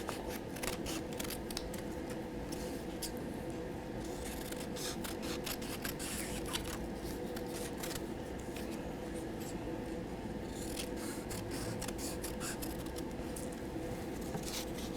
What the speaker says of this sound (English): So I'm going to cut out my leaves here.